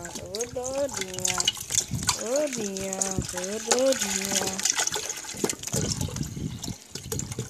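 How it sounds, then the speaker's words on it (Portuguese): Water poured steadily into an aquarium, a continuous splashing rush that runs beneath someone talking in Portuguese, close and fairly loud. "Agora você vai pegar água e despejar todinha."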